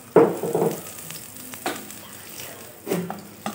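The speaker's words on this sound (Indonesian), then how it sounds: "ditumis dulu nih teman-teman" Shallots and garlic sizzle and hiss in a hot pan as they are stirred, with several louder bursts of frying noise and quieter crackling between them.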